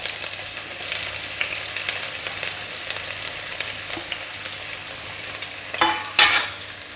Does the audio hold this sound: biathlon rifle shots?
no